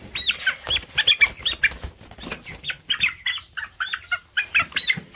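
A Cornish broiler meat chicken being picked up in a barn, wings beating in quick repeated bursts of flapping with a few soft clucks, close and fairly loud throughout.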